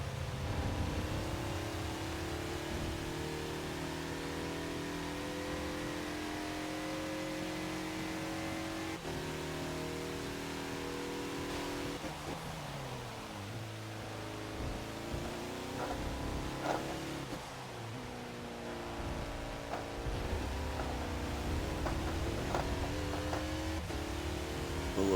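Engine of a 2014 Mazda Lola B12/80 prototype race car revving and shifting in Forza at Le Mans in the rain, a steady loud drone rising and falling in pitch with throttle lifts and downshifts, no talking.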